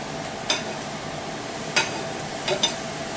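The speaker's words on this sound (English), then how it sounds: "we dip these in oil and cook them for about a couple seconds on each side" Taquitos frying in hot oil, a continuous sizzle with a few sharp crackles and splashes as pieces are dipped and flipped, fairly close, with no talk.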